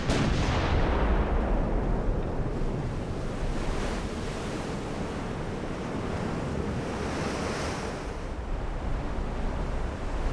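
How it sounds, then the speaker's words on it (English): Heavy cruiser guns firing at sea in the naval battle game Ultimate Admiral: Dreadnoughts, heard as a steady wash of low rumbling gunfire and ocean wind, with distant booms blended into the continuous roar and no talking. "we've got our heavy crews already firing at the enemy"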